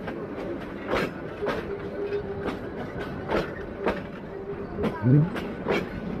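A train rolls along the tracks after leaving Gaibandha, its wheels clattering in a steady repeating rhythm with a faint squeal near the end.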